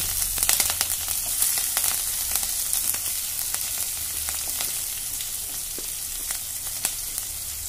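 Mustard seeds, cumin and green chili frying in hot oil for spinach upma, giving a steady close crackling sizzle with sharp pops throughout and no voices.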